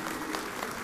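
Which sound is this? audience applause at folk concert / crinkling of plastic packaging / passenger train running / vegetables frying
audience applause at folk concert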